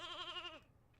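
A sheep bleats once in the game Fate/Grand Order, a wavering, quavering cry lasting about half a second, followed by quiet.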